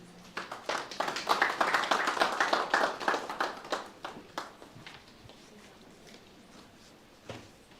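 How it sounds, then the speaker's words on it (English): Applause from an audience welcoming Dr. Peter Bongomin at a clinic launch event, a dense burst of clapping that swells over the first few seconds, then thins out to scattered claps and fades. "Can we receive him with a round of applause?"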